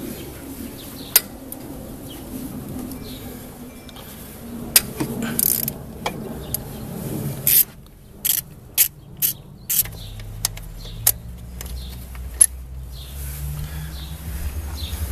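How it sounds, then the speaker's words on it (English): A 12mm socket ratchet on an extension works loose the throttle-body bolts during an idle air control valve replacement, giving sharp close clicks and short rapid ratcheting bursts between quieter pauses, with a low hum underneath toward the end. "we have the 12mm socket right here, and that's what we're going to use to get these bolts off of the throttle body right here"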